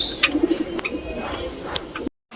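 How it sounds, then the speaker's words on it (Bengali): Soft pigeon coos close by, a few low murmuring calls amid light chirps and clicks, ending abruptly. "সব কবুতরগুলো এই যে বাইরে বসে আছে"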